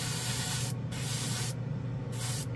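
A Badger Sotar airbrush sprays black paint over a model piece, making a steady, close, loud airy hiss that breaks off briefly a few times.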